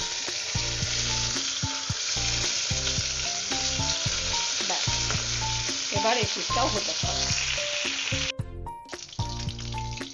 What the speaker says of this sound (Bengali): মাছ ভাজা হয়ে গেল।